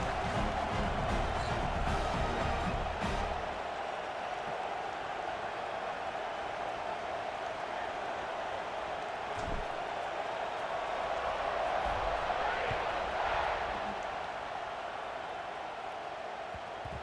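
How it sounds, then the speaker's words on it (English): Crowd buzz fills the stadium in the EA Sports College Football 26 video game, a dense, steady wash of distant voices and cheering that swells slightly in the middle; continuous, with no clear commentary over it. "this crowd is buzzing after that last score"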